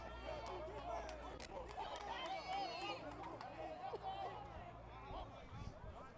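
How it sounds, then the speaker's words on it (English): A baseball crowd on a cold day chatters and cheers in a steady, distant hubbub, with scattered shouts and whistles rising from the stands. "Crowd's really getting fired up here."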